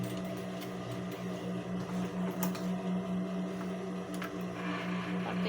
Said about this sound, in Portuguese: vou ajeitando o tecido e costurando